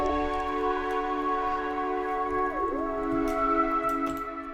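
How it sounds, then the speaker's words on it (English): Sustained layered keyboard and soft pad chords, smooth held tones shifting to a new chord midway, with a faint shimmer on top. "So it already added a lot of keys and pads"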